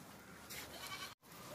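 A lot of ten male goats held for sale, freshly arrived from a journey, bleat faintly over a steady background hum during a short moment, with one brief drop to near silence.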